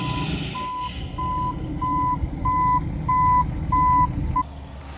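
A tow truck sounds a regular series of reversing beeps while loading a Tesla car, about seven evenly spaced tones over a low idling engine rumble, with no talk.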